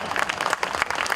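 An audience at an Urdu-Hindi mushaira poetry recital claps in a brief, moderately dense burst of applause, many hands patting unevenly at once, heard fairly close with no one speaking over it.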